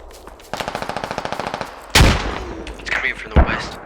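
Rapid automatic gunfire from a squad shooter video game, a steady burst of shots followed by a heavy close blast and scattered impacts, with players talking over the action.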